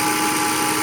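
A DC series motor runs under load in a lab test, giving a steady, close electrical whine and hum with no break.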